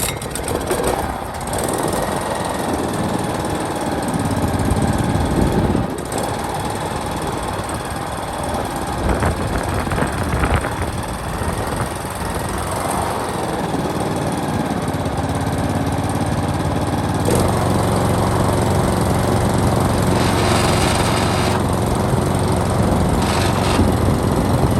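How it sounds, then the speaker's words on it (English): An old lawn mower engine runs hard at full throttle with its blade set high, a steady loud drone with knocking irregularities and shifts in pitch, with no voices throughout. "let's see if we can get it started. So that's run, there's no kill, full throttle"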